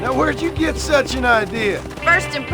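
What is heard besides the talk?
No everyday noises stand out.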